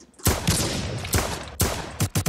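Sniper rifle fire in the Roblox first-person shooter game: loud, close bursts of gunfire, one long crackling volley followed by several sharp shots in quick succession.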